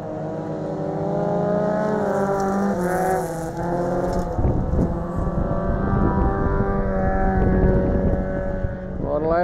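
Sedan race cars roar around a dirt speedway, engines droning steadily and loud with shifting pitch as they pass, while a commentator talks over the racing throughout.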